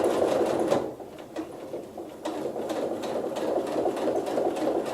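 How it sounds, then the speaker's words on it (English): A sewing machine stitches steadily along the basting line on a quilt's trim and sashing and makes a couple of back stitches, producing a continuous close mechanical whir with slight dips in speed. "Just a couple back stitches, staying right on the basting."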